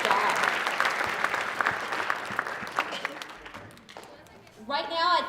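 Audience applause for a student group at a student recognition event, a steady burst of clapping that thins out and fades, followed by a voice starting to speak at the end.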